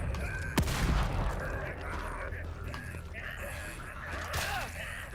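Shotgun blasts in the survival horror game The Evil Within 2, two sharp booming shots about four seconds apart amid mechanical clanks and creaks, with a voice gasping briefly.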